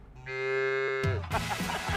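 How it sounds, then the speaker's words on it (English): A single cow lets out a long, loud, drawn-out moo close by, which then breaks into a burst of broadband noise and clatter. "that's a cow."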